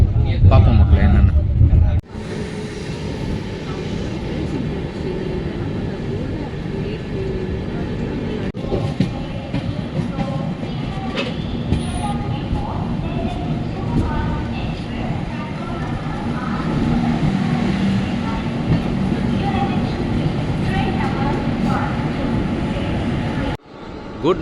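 Sengottai-Tambaram special express train heard from on board while running: a steady loud rumble and rattle of wheels and carriage throughout, with someone talking over it.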